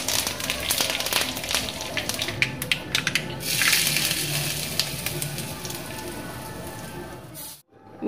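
Curry leaves hit hot oil already holding mustard seeds and dried red chillies, bursting into loud crackling sizzle with sharp pops that settles into steady frying, then cuts off near the end.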